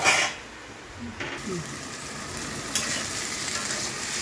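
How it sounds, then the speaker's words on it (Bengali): Onion stalks frying with onion and potato in a pan, a steady soft sizzle with occasional stirring scrapes, close and continuous, with someone speaking briefly at the start. "পেঁয়াজ দিয়ে আলু দিয়ে পেঁয়াজ কলি ভাজা দেখুন হয়ে গেছে।"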